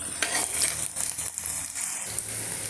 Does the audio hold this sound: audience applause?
no